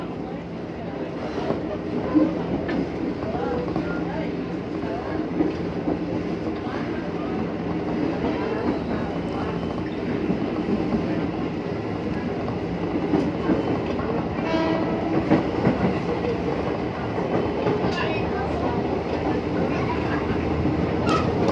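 A JR203 Japanese-built commuter train runs on rails between Tanah Abang and BSD, giving a steady, loud, close rumble with rolling wheel clatter throughout and brief sharper knocks.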